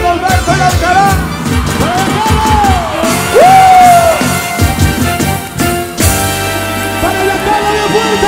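A live Latin concert crowd shouts and whoops over loud amplified music, with rising yells and cheers scattered across the stretch and a singer's voice mixed in.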